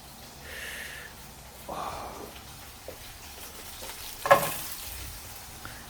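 Garlic followed by ginger sizzles quietly in a hot pan while being stirred and tossed with tongs, with soft scraping and one sharper clatter near the end.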